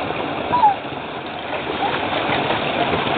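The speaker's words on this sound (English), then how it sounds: "the sound of a little brook coming down through this canyon" A small brook runs down through a rocky canyon on a hike with dogs in early May, giving a steady, close, moderately loud wash of flowing water with a few faint bird chirps.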